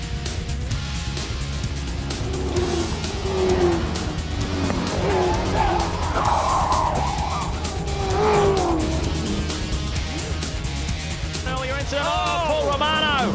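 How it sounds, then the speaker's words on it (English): V8 Supercar race cars from the late 1990s skid and one slams hard into the wall, heard as continuous loud engine roar with squealing tires and impact noise under a commentator's voice. "See how hard he hit the wall."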